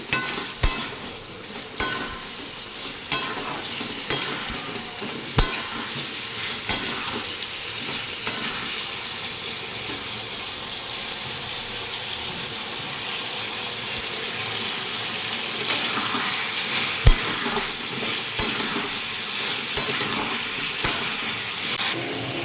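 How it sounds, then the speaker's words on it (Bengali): Spice paste of ginger, cumin and coriander powder with a little water frying in a home kitchen pan, a steady moderate sizzle broken by regular scraping clicks of a stirring spoon, no talk. "গুঁড়ো আর ধনে গুঁড়ো দিয়ে মশলাটা দিয়ে কষে নেব। তো সামান্য জল দিচ্ছি মশলাটা সঙ্গে নিয়ে।"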